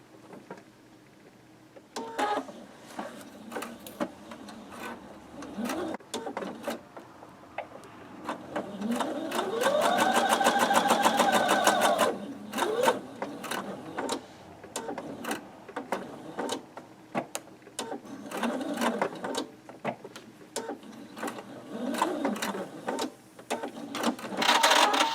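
A sewing machine stitches the center seam of a quilt block, running in bursts of rapid mechanical whirring and clatter with a longer steady stretch in the middle, close and fairly loud.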